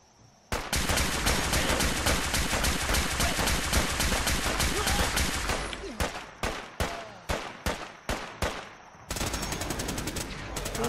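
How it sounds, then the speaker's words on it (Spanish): Machine gun fire in the video game Fallout 4, Far Harbor DLC: a long sustained burst of rapid automatic shots, then a string of separate single cracks, then another dense burst, loud and close. "Esa es la ametralladora."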